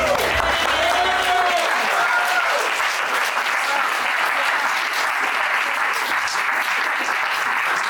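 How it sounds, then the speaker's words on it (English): Sustained applause from an audience for Greg after a talk, dense and steady throughout, with a few voices calling out briefly at the start. "about one more big round of applause for Greg?"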